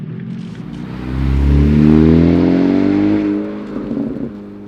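An AWE Touring Edition exhaust on a 10th-gen Honda Civic Si drones at low speed from inside the cabin, rising in pitch as the engine pulls, then settling back, with no talk over it.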